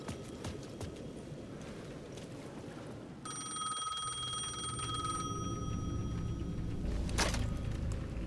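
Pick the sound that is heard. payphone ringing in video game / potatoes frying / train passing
payphone ringing in video game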